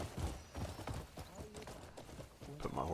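Hooves clip-clop in a video game as a horse is ridden and positioned, a quick, uneven clatter of footfalls with a brief whinny-like sound near the end, under faint game ambience.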